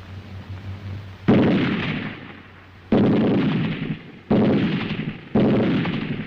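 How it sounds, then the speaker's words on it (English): Four heavy, booming reports of rifle and machine gun fire during a WW2 German squad attack, each a sharp blast trailing off into a long rumbling echo, spaced a second or more apart, with no voices. "The steady, sharp reports of rifle fire from both flanks and the bursts of covering fire from the machine guns."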